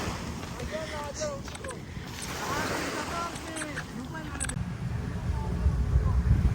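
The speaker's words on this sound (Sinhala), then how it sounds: "ඔන්න අපේ බෝට්ටුව ඇවිල්ලා." A boat arrives at the harbour in Khorfakkan, UAE, amid wind and breaking waves. A low engine rumble swells toward the end, and people talk over the steady outdoor noise.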